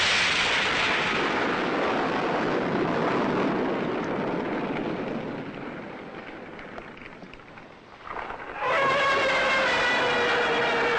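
Artillery in a Gamera monster film fires a freezing bomb at the giant turtle, a long, loud roaring blast that fades and then gives way to a sharp, sustained high rushing effect.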